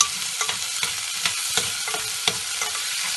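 Peaches and pineapple are stirred as they fry in a hot pan on high heat, giving a steady close sizzle with light scraping spoon strokes at an uneven rhythm.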